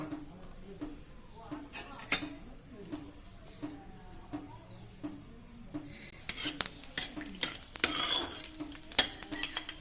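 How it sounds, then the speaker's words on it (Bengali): Whole garam masala frying in white oil in a pan for a Bengali doi paneer, with soft stirring and utensil scrapes that turn into a louder crackling sizzle partway through. "সাদা তেল দিয়ে দিলাম। গোটা গরম মশলা ভেজে আমি তুলে নেব।"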